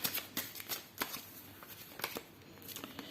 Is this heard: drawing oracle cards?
yes